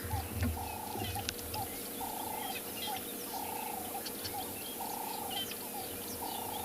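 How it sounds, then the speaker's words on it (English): Repeated bird calls ring through the bush of a South African safari reserve in the morning, a steady series of short clear notes at even intervals, with scattered chirps from other birds in the background. "I can hear so many different bird calls."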